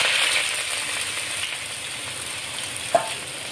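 Onions fry in hot oil for beresta, giving a steady, fairly quiet hissing sizzle close by, broken once by a brief sharp crackle or spatter near the end.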